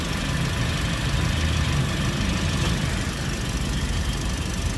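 A 2022 Toyota Avanza engine idles steadily, a continuous low rumble with a faint rattling texture, holding even throughout with no revving.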